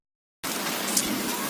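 Hail falls in Colorado as a dense, steady hiss of pelting ice that starts abruptly and holds at an even, close-up loudness to the end.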